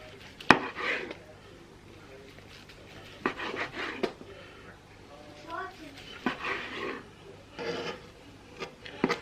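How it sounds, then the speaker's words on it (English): A knife slices through cooked meat across the grain, with soft rasping strokes that come in several separate bursts while a person talks nearby. "That's enough slicing for now."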